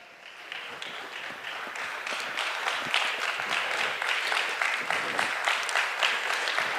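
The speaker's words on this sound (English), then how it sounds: "let's give one more round of applause for our next presenter, who is Mr. Chetan Shah" Steady audience applause at a conference session welcoming the next presenter, a dense patter of many hands clapping that holds strongly for almost seven seconds.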